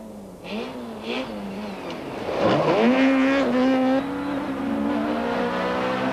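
Rally cars, a Toyota and a Volkswagen Golf, race along a dusty 1995 stage, engines revving hard with gear shifts and rising pitch, loud and close, with a brief tire squeal as one attempts to pass.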